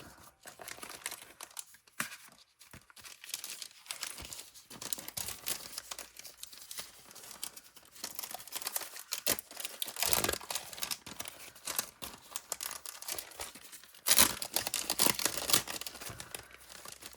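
Paper sheets being handled for a card-making project, with a steady run of close crinkling, rustling and occasional tearing-like crackles, including a sharper crunch near the end, with no one talking.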